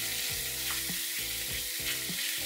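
Ground beef sizzles steadily in a pot for bolognese sauce, a loud continuous frying hiss broken by a few soft scraping thuds as the meat is spread out.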